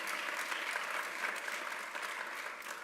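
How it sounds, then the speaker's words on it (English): An audience at a fall university convocation claps steadily, a dense even wash of applause held at a moderate, fairly distant level throughout. "we can give a round of applause to Dr. Stephen Kane."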